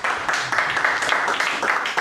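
A poetry reading audience applauds the featured poet, steady dense clapping filling the room throughout without a break.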